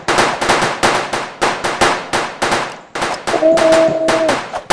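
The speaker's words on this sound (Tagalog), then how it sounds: "Ayun kita mo ko dyan, bumabaril ako." Rapid bursts of gunfire from shooting zombies in the video game Roblox, loud and close, coming in quick repeated volleys with short pauses between them.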